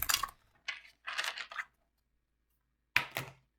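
Tarot cards being shuffled in the hands, several short crisp riffling bursts separated by pauses, close and fairly quiet with no talk.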